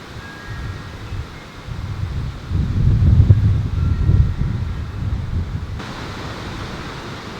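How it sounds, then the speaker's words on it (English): Steady rain falls outdoors around a Ford Transit van, a broad even hiss that swells to a louder wash in the middle and then eases, with no voices. "It's raining!"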